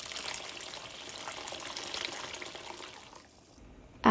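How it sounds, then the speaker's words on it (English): Hot water pours steadily into a pot of sautéed tomato, soaked rice and lentils for a mixed vegetable khichuri, a continuous gushing splash that runs at even strength and then cuts off near the end. "Add hot water as required."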